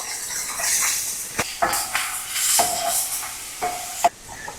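Onions and Hatch chilies sizzle in a skillet while a utensil stirs and scrapes, several sharp clanks against the pan punctuating a steady close frying hiss.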